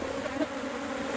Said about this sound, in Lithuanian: Tai bitės.